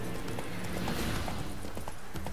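Horse hooves clip-clopping steadily along a path in The Witcher 3: Wild Hunt, a continuous rhythmic trot under a dense game soundscape, no speech.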